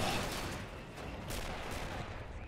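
Gunfire from a flak gun and a tank in Men of War Assault Squad 2, a Battle of Berlin city defense: a loud, dense burst of firing and rumbling blasts fills the whole moment with no talking.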